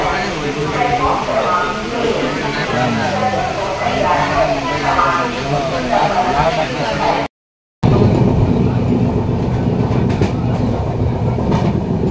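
A passenger train rumbles and clatters past close by, loud and continuous, with people talking nearby and a brief drop to silence midway.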